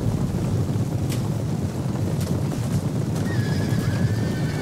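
Cavalry horses whinny and neigh during a Total War: Rome 2 battle, their cries rising over a steady windy rumble of combat, with a faint shrill tone near the end.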